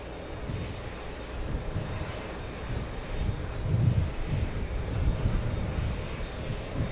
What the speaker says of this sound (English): American Airlines coming in. This one coming in from Milan. Flight 199. a Boeing 777-200,